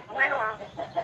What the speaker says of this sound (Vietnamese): Mấy con gà nó quậy quá à, la nó coi.